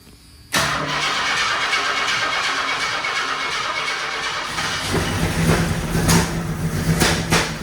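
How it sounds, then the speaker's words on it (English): After a short quiet moment, a freshly installed car engine cranks and fires, then runs loudly and steadily, revving slightly toward the end, close up without speech. "let's give it a crank and see how it sounds"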